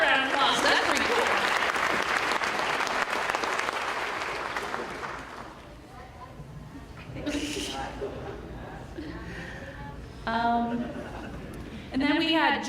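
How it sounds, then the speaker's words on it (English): An audience at the Swain High School athletic awards ceremony claps in a dense burst of applause that fades over several seconds, after which someone talks over a quiet room. "give her another round of applause"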